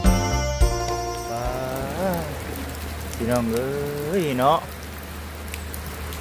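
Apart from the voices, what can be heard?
rain falling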